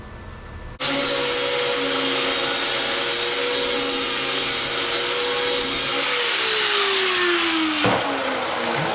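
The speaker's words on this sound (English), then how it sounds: "All I need to do is grind some of the tip down on both sides" A power grinder starts abruptly and runs at a loud, steady high whine while the tip of a homemade air ride part for a 1953 vehicle is ground down, then the pitch drops as the motor winds down near the end.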